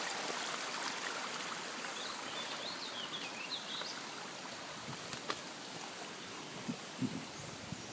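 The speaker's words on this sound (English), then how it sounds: "almost at the level of the little river, or stream" A small stream flows beneath an old iron bridge, a soft, steady trickle and burble close by, with faint bird chirps high above and an occasional light splash.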